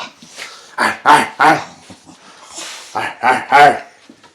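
A dog makes a series of vocal yips and whining barks in two short bursts, close and fairly loud, with brief quiet between.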